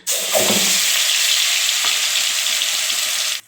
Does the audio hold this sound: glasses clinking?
no